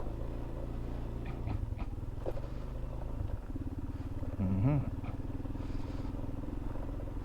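A motorcycle engine drones steadily at close range, with bumps and rattles as it rolls over a potholed rural road in Baras, Rizal; a brief tonal whine rises near the end.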